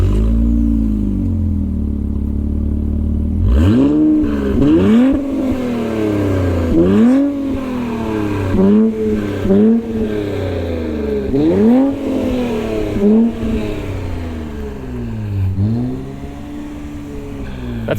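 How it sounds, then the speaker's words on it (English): A 2021 Infiniti Q50 Red Sport 400 AWD starts up, settles into a deep idle, then is revved repeatedly in rising and falling sweeps, loud and close, with no limiter cutting in. "Let's start it up here. You'd like me to give it a rev?"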